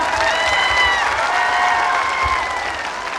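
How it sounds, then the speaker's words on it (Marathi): An audience at a Banjara community reservation rally applauds loudly and continuously to welcome guests, a dense wash of clapping with a few voices and tonal sounds mixed in. "जोरदार टाळी वाजवून स्वागत करावे"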